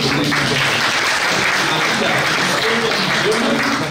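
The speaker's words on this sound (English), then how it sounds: "Another round of applause." Festival audience clapping at the official opening of an international literature festival, a dense, loud, sustained round of applause from a packed room, with no voices standing out above it.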